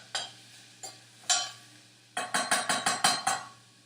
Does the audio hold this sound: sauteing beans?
yes